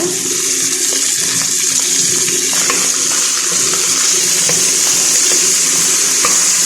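A pot of spinach and potato soup is stirred, its steady bubbling wash running continuously under faint scraping clicks, loud and close with no talk.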